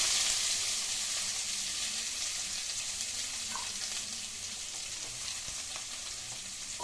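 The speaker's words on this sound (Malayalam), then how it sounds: "നമ്മൾ കഴുകി അരിഞ്ഞ് മാറ്റി വെച്ച സവാള ഇട്ട് കൊടുക്കാം" Chopped onion fries in oil with a steady, even sizzle that eases slightly over time, plus a few faint stirring touches; close, continuous, and unaccompanied by speech.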